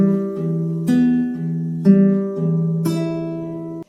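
Fingerpicked guitar alternating a low bass-string note with higher treble-string notes in a steady, even pattern. The notes ring out close and clear with no one talking.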